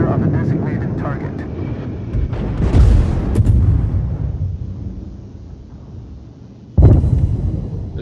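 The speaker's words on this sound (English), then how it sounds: "Concentrate fire on the designated target." Naval guns fire at a target in a warship video game, heavy booming blasts landing at intervals. One roars up midway and another hits sharply near the end, with low rumble in between and talk underneath.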